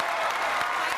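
A studio audience on a Marathi comedy show applauds to welcome a guest, a brief burst of dense, even clapping close by.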